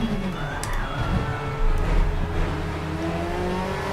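Vauxhall Vectra race car in Assetto Corsa, its engine droning steadily with rising and falling revs and harmonic whine, a throaty surge partway through, heard alone at moderate loudness.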